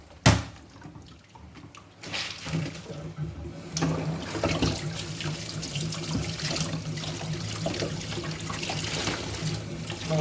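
Running water pours steadily into a basin as laundry is rinsed by hand, a continuous close splashing flow after a brief knock at the start.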